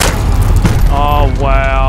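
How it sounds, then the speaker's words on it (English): A cruise missile blasts in a Call of Duty Modern Warfare match, a loud boom with rumbling low end layered over game noise, followed by rising tonal whooshes and hums. "Enemy cruise missile incoming"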